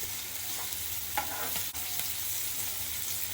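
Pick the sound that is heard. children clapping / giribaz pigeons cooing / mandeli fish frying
mandeli fish frying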